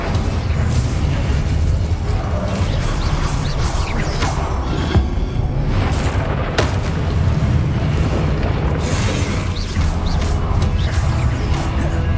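Incendio fire spell cast repeatedly in Hogwarts Legacy, a loud continuous roar of magical flame and booming bursts sustained throughout, with sharp crackling impacts at intervals and no talk.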